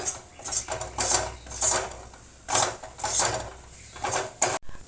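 Sweet filling for potol mishti, with chopped almonds, is stirred in a pot: a series of scraping, clinking strokes of a spoon against the metal, uneven and close, with short pauses between bursts.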